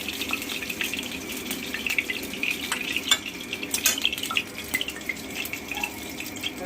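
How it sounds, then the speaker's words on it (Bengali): Whole cumin seeds, bay leaves and dried red chillies crackle and sizzle in hot oil after fish has been fried, a steady close hiss dotted with small pops and a stirring clatter now and then, with no talking. "গোটা জিরে, তেজপাতা আর শুকনো লঙ্কা ফোড়নে দিয়ে দিলাম।"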